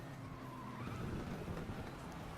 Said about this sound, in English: I'm just hearing all the other cars around me